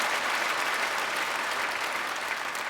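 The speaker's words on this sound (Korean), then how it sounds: "이 학생들에게 박수하겠습니다" Church congregation at a September special dawn service applauding students and children, a steady, dense wash of many hands clapping filling the large sanctuary without pause, no voices standing out.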